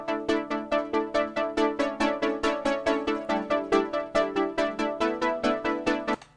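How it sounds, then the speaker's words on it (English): A Roland JX analog synthesizer plays a steady run of short plucked notes in a quick even rhythm, clear and close, with no voices. "we have another sound on the JX that I demonstrated earlier that plays like this."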